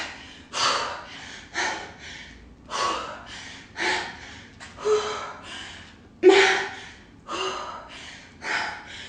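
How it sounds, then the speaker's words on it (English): Heavy breathing after a strength training workout, a run of about a dozen loud, close, forceful gasping breaths in an irregular rhythm, with no talk. "My breathing's crazy."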